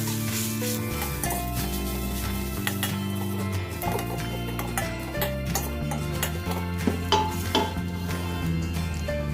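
Chili paste stir-frying in a little oil in a Thai kitchen, scraped and stirred in a pan with clinks of a utensil, a steady sizzle beneath music, no talk heard.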